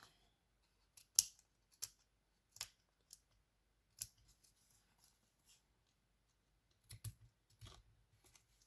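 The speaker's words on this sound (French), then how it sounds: "J'adore ces petits ciseaux." Small manicure scissors trimming paper at a craft table: a handful of quiet, crisp snips, spaced irregularly with pauses, close-up and soft.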